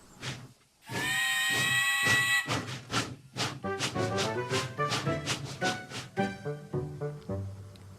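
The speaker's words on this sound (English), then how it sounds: "the guard blew his whistle, and the logging loco set off" A logging steam locomotive chuffs away in rhythmic, hissing bursts after a long shrill blast of the guard's whistle, the puffs quickening and loud close by.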